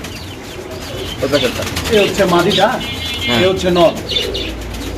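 Pigeons with eggs and chicks coo softly in low, throaty warbles nearby at a pigeon sale, mixed with faint chirps, while a person speaks briefly over the birds.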